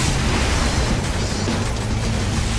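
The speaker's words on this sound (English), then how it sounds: "Explosion." A loud, sustained rumbling blast of a vehicle exploding in the video game Saints Row: The Third, with dense low-end roar and crackling noise, holding steady throughout without a clear start or fade.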